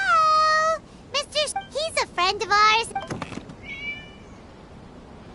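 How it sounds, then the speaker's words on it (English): A cat meows several times close by, drawn-out and wavering cries in quick succession, with a brief spoken remark near the middle and a softer final meow trailing off. "It was just a cat"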